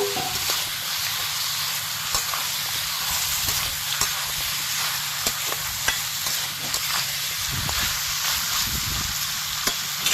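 Jungle chicken with fried potatoes sizzles in a pan with pepper and cumin powder, a continuous close frying hiss with occasional stirring clicks and scrapes.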